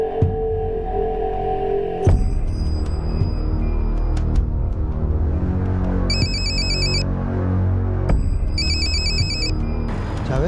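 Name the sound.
phone ringing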